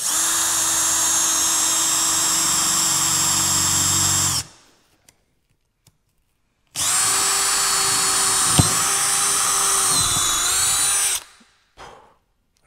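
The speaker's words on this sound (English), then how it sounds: "anytime you're drilling through the gel coat, to start in reverse, so that way you don't chip it" A power drill whines loudly for several seconds, stops, then runs again in a second long burst, with brief quiet gaps between, drilling a pilot hole through boat gel coat, first in reverse, then forward.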